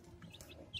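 Chickens gathered at a new food dispenser give soft, scattered clucks, faint and close, with one brief louder call near the end.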